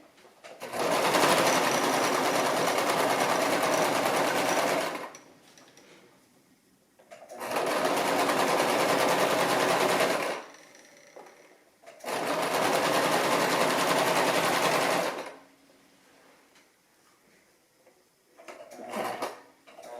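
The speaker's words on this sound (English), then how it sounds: "So I'm going to sew that and then back up." A Brother LX-3125 sewing machine stitching an apron seam runs in three steady, loud bursts of several seconds each, separated by short pauses, with a brief fourth start at the end.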